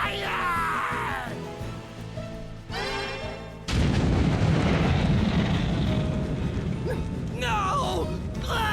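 A fire spell cast in the Bravely Default HD Remaster game: music and a whooshing magical effect give way to a loud, dense burst of crackling fire and explosive rumble that rolls on for several seconds, with lighter magical shimmer over it.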